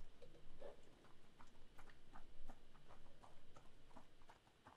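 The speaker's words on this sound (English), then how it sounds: "There's an alive horse." A horse walks in A Plague Tale: Innocence, its hooves clip-clopping in a steady rhythm at a modest distance, quiet and alone.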